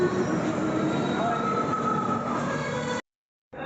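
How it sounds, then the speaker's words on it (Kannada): A passenger train pulls into a station platform in Hyderabad, a loud continuous rumble of wheels and cars with a thin metallic squeal running through it, broken by a brief gap near the end. "ಆಲ್ಮೋಸ್ಟ್ ಒಂದು ಅರ್ಧ ಗಂಟೆ ವೇಟ್ ಮಾಡಿದಕ್ಕೆ ಕಡೆಗೂ ನಮ್ಮ ಟ್ರೈನ್ ಬಂತು"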